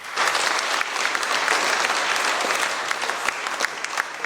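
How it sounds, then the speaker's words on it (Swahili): A standing audience at a book launch applauding the organizing committee, a dense steady burst of many hands clapping nearby for several seconds. "Jamani, naomba tusimame tuwapigie makofi."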